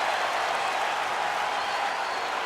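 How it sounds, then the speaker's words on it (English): Capacity arena crowd in the WWE 2K25 wrestling video game roars in a steady, dense wash of cheering and applause that holds loud and unbroken throughout. "With every move you make, you hear this capacity crowd following you on that journey"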